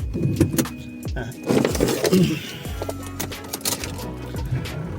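A 2021 Toyota Hilux Revo Cab pickup with about 98,583 km turns over with clattering bursts, then catches and settles into a steady low idle close by.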